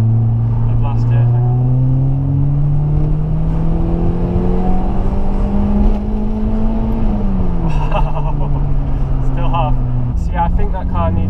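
A Peugeot 106 Rallye engine running rough and smoky, likely with a head gasket fault, idles and revs steadily for several seconds, close and loud. The pitch rises and falls with the revs, and faint voices can be heard underneath.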